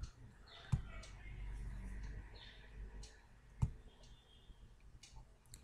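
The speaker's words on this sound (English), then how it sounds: "Now double click here." Two sharp computer mouse clicks, a few seconds apart, stand out faintly over a quiet room hum during SAP ABAP programming work.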